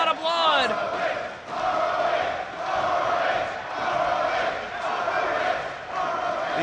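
Spectators at a Ring of Honor wrestling event in 2010 cheer and chant throughout, a dense, loud crowd roar that rises and falls in waves, with a brief commentator voice at the outset.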